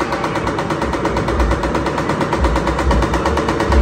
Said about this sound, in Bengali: ও বাও, গুলি করো আবদিয়া।